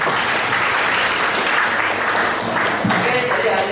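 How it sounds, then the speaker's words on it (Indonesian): A classroom crowd claps steadily for a few seconds, a dense patter of applause filling the room. "Oke, tepuk tangan untuk semuanya."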